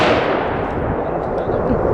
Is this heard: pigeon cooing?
no